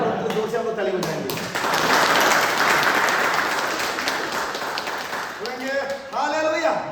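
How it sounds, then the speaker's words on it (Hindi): A church congregation at an army church service claps loudly and continuously for several seconds, with speech before and after the applause. "जोर से हम लोग ताली बजाएंगे"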